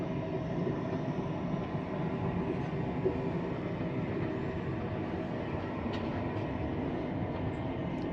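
A steady rumble of a train to Bydgoszcz, Poland, rolling along rails fills the clip, continuous and even from inside the carriage, with faint rattles and no talking.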